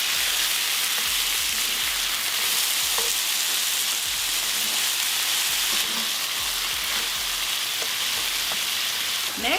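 Beef with onions and tomato sizzles and fries steadily in a pan for a Mexican-style beef and potato stew, a dense continuous crackle with occasional stirring scrapes, close and loud, no voices.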